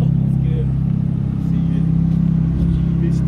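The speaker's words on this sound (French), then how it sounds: "Petite Ferrari qui chauffe depuis 1h30" Ferrari supercar idling as it warms up at a supercar meet, a loud, steady low engine rumble close by, with people talking nearby over it.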